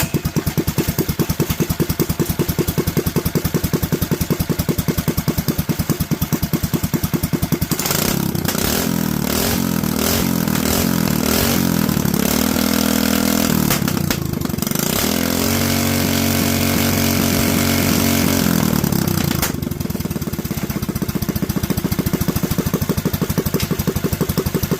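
Predator 212 small engine idling with a 95 carburetor jet, a fast steady putter that shifts midway into a rougher, wavering drone with surging pitch before settling back to an even idle, loud and close.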